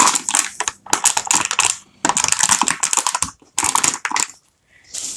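Dry coloured pencil mixture being crushed for a homemade fidget toy, giving bursts of dense crackly grinding and crunching in close, irregular spurts separated by short pauses.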